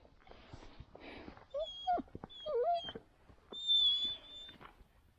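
A hunting dog whines and whimpers close by in the mountains, a string of high, wavering cries and yips with a longer plaintive whine near the end.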